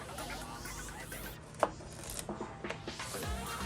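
A knife slices zucchini into quarter-inch fries on a board, giving soft, close rubbing and scraping strokes with a few sharper taps against a quiet room.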